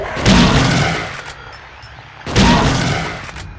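Gunfire in the video game Silent Hill 2: two heavy booming shots about two seconds apart, each loud and sudden with a long rumbling decay, heard with no voices.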